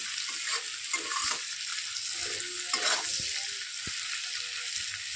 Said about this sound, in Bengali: আমি এখানে বড় সাইজের দুটো পেঁয়াজ কুচি দিয়ে দিয়েছি একটু ভেজে নিতে হবে